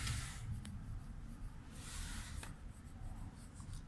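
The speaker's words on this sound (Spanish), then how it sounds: "Luego puedo con el lápiz marcar algunas" Pencil strokes rubbing over paper while adding shading to a marker sketch, a steady close scratching texture that runs continuously for several seconds with a few brief sharper strokes.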